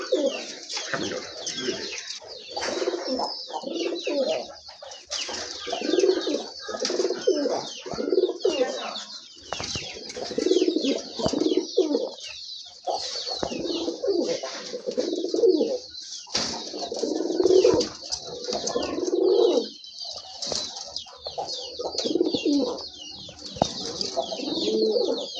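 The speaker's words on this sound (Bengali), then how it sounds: "এটা ডিম বাচ্চা করানো একটা মাদি কবুতর।" Domestic pigeons kept for breeding, including a laying hen, coo in repeated low, throaty bursts close by, with occasional wing flutters and faint chirps from other birds between calls.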